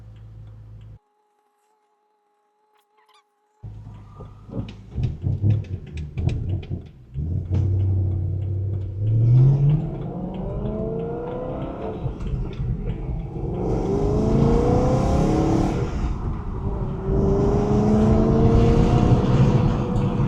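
A BMW E90 M3 pulls away and accelerates while still cold, its engine rumble rising and falling through gear changes up close from inside the cabin, with ticking and road noise and no talking.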